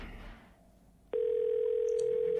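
Telephone ringback tone on an unanswered call: a steady, unbroken electronic tone that begins abruptly about halfway through after a quiet stretch, holding at a constant loud level to the end, with no voice over it.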